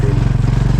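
An old Honda XRM motorcycle engine runs close by with a fast, even, throbbing putter, loud and steady through the short stretch.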